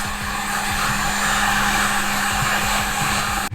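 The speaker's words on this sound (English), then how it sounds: "You just use a heat gun, just heat it up." A heat gun blows hot air onto the adhesive of a forged carbon fiber door trim on a 2022 Toyota GR Supra, a loud, steady close-up whirring hiss that cuts off abruptly near the end.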